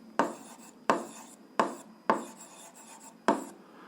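A pen scratches out an algebra solution on paper in five distinct rasping strokes, each starting with a sharp attack and trailing off, close and fairly quiet, with no talking.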